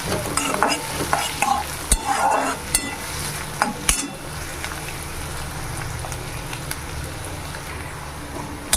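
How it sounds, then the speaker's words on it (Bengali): Chopped green chili and onions fry in an oiled pan, a steady sizzle broken by several sharp scraping stirs early on before settling into an even crackle. "ঝালের জন্য দিয়ে দেবো মরিচ কুচি এবার একটু লাল করে ভেজে নেব"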